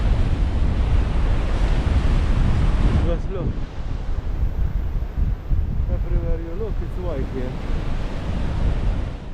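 Strong wind buffets the microphone at a stormy seashore at Xghajra, Malta, with roaring surf beneath, a loud continuous rush broken by brief lulls, and a person speaking over it.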